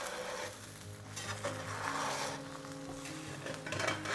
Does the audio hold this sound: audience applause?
no